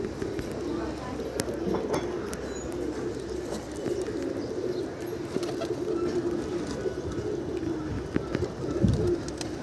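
Pigeons at a rooftop loft coo in low, rolling phrases nearby, with someone talking steadily over the birds and occasional light knocks.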